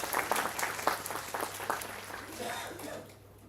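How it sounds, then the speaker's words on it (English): An audience applauds Swamiji at a university student induction program, steady massed clapping that carries on for a few seconds before fading toward the end. "Please give a big round of applause to Swamiji"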